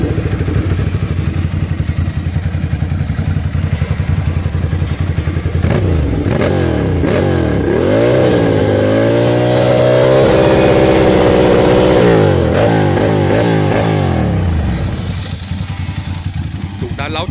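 A 2014 big bike motorcycle engine idles loudly, then revs up in a series of rising and falling sweeps, holds a high rev, revs again in short bursts and settles back to idle, close up.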